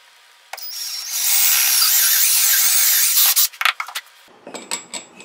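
A power drill bores a hole for a bolt in a DIY hunting camera arm, a loud steady whine lasting about two seconds, then breaking into short bursts and a few scraping, clattering handling sounds.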